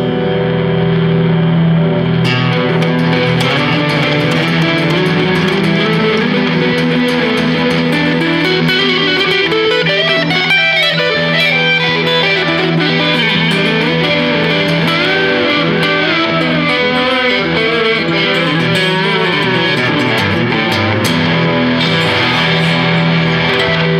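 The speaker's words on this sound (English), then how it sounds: "What's it sound like with backwards echo?" A new-design electric guitar plays continuously through a backwards echo effect, with dense, swelling reversed repeats and a distorted, reverberant wash, loud and unbroken throughout with no talking.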